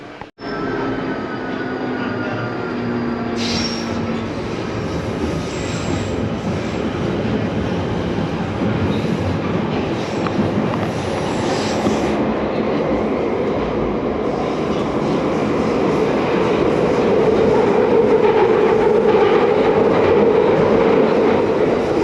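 A London Underground Northern Line train bound for Edgware rumbles steadily and loudly at close range, with faint wheel squeal. The roar swells slightly toward the end, and no one speaks.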